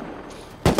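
AK rifle fire in Rust cuts in abruptly, a loud close burst of two quick shots after a moment of low background rumble.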